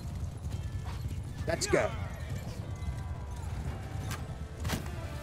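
Horse hooves clop faintly under steady battle ambience in Mount & Blade II: Bannerlord, with a Khuzait rider remounting amid cavalry fighting; someone speaks briefly over it.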